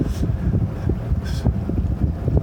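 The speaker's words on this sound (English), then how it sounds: "Wind came up." Wind gusts buffet the microphone while sailing on a lake, producing a low, rough, fluttering rumble that swells and fades throughout, close and steady with no voices.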